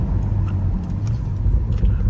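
BMW car with an N55 engine drives along, its low engine rumble steady and close from inside the cabin, with road noise and no talk.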